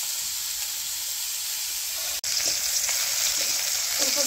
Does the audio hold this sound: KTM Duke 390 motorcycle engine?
no